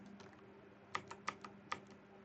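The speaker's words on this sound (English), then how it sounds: "So I will type in." A computer keyboard is typed on during a search in freight forwarding software, giving a few soft, close key clicks over a steady low hum, with no voices.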